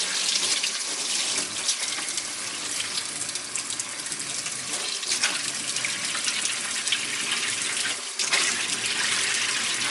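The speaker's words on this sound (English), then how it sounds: "And so now we will see if it still works here for the water to run out." Tap water pours steadily into a sink, a continuous close hiss and splash lasting the whole stretch with small fluctuations and no voices.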